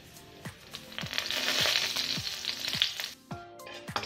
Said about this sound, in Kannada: ಮೊದಲಿಗೆ ನಾವು ಮಸಾಲೆಗಳನ್ನು ಹಾಕ್ಕೊಳ್ಳೋಣ. ಇದರಲ್ಲೇ ಕಸೂರಿ ಮೇತಿನೂ ಹಾಕ್ತಾ ಇದ್ದೀನಿ